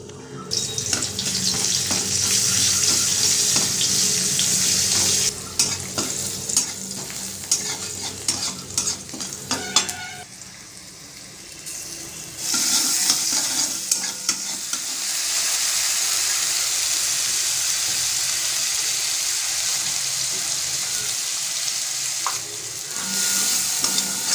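Spice paste being stirred and fried in a pan, a continuous loud sizzle with scraping strokes of the spoon, broken by a brief quieter pause before the frying resumes.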